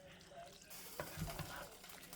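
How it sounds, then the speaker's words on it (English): A spoon stirs a cheesy Sloppy Joe mixture with sharp cheddar in a pan, giving a brief, faint scrape and shuffle with a light sizzle for about two seconds. "I'm going to go ahead and stir this around."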